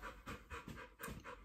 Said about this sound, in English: Now she's panting.